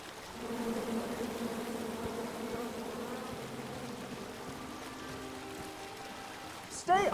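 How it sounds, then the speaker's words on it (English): A swarm of bees buzzes in a King's Quest adventure game, a sustained droning hum with wavering tones that fades in the second half, ending in a sudden louder burst. "Come at me, bees!"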